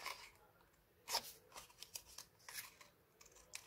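Scissors snip through a cardboard square for a scrapbooking candle box, making soft, faint crunching cuts in short bursts close by, with no talking.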